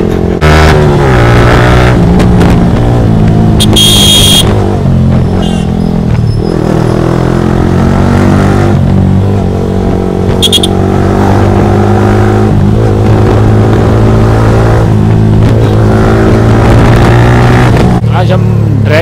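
A heavy vehicle's engine revs and accelerates during a drag race, a loud sustained drone with rising pitch and brief higher bursts, heard under people talking.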